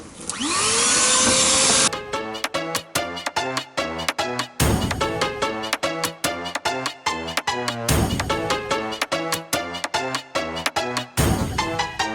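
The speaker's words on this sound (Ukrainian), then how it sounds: "это чесний отзыв про такий от пилісос за 1750 гривень" A budget bagged vacuum cleaner for dry-cleaning a Chevrolet Aveo interior roars loudly for about two seconds, then rhythmic music takes over with short noisy bursts recurring.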